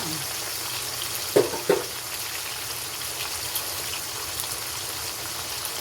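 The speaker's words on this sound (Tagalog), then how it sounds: "i-stir fry lang po natin ang ating chicken" Chicken and mushroom stir-fry in a pan makes a soft, steady sizzle. Two sharp knocks of utensil on pan come in quick succession, with a faint voice underneath.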